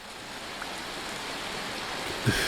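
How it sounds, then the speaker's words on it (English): Sleet and hail fall in the Vintage Story video game, a soft steady hiss of icy precipitation with a faint patter, holding at an even level with one brief louder tap near the end. "Is it still sleeting? Yeah, there's still hail."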